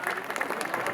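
Brief burst of audience clapping at a Holi Milan community gathering, steady and moderately loud, running for about a second with a crowd murmur underneath.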